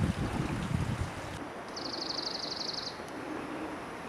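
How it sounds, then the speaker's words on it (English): A mountain brook flows right beside the Burrows Trail on Camel's Hump, a steady close rush of water filling the clip, with a brief low rumble at the start and a short high chirp partway through. "And here the brook is right next to the trail."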